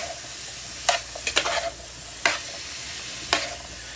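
Sautéed sayote, two whole ones, stirred in a pan with balut, making a few distinct scraping, spatula-scrape bursts over a steady low sizzle, close and clear, with no talking.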